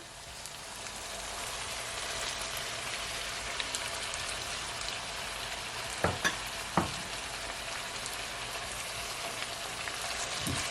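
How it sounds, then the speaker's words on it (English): Red herring and ackee frying in a pan with a constant bright sizzle, a few sharp clicks of the spoon or spatula stirring midway, no talking. "So now that I add my red herring, I'm gonna add my ackee."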